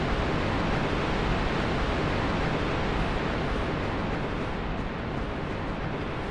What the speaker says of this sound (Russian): Ой, звуки водопада какие громкие